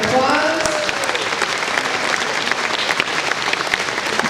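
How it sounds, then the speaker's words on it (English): Sustained applause from a seated crowd at an agricultural appreciation luncheon, dense and steady clapping with a brief voice or cheer at the start. "Let's give them all a big round of applause."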